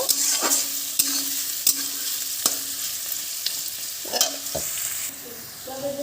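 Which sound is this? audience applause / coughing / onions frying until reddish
onions frying until reddish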